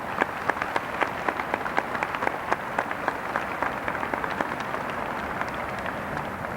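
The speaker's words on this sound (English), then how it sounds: "let's give your parents a round of applause right now" Graduation audience at a 1997 commencement applauding the parents, a steady crowd of clapping with distinct individual claps popping through, heard from a moderate distance in a large hall.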